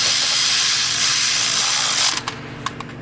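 A cordless power tool whirs steadily while tightening bolts on a Honda Odyssey engine during a timing belt job, then cuts out, leaving a few sharp metallic clicks.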